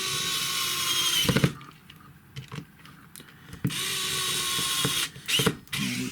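A small screwdriver drives two screws back into the plastic casing of a GHD MK4 or MK5 hair straightener, producing bursts of whirring broken by pauses and clicks, close and moderately loud, with no speech.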